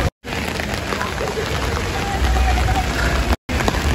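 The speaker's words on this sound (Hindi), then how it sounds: "बारिश हो रही है" Rain falls steadily in Shimla as a dense, continuous hiss of drops, broken twice by brief silent gaps.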